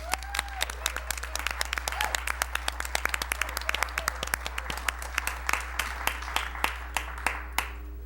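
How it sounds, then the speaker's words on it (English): A modest audience at a school board meeting claps in sharp, distinct, uneven hand claps, close and steady for several seconds over a low constant hum, with a voice briefly audible at the start. "want to give you one last big round of applause"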